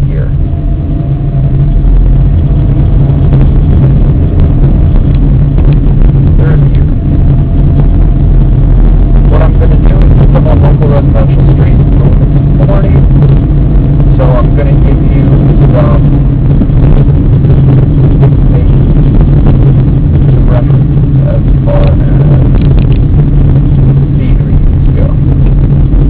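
Manual stick-shift car driven through first and second gear in traffic, a loud in-cabin engine drone with wind rumble that rises and eases between shifts, with someone talking over it.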